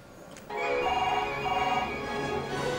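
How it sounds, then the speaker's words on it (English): A telephone starts ringing after a brief quiet moment, its warbling electronic bell repeating steadily and fairly close. "Who's this ringing at this time?"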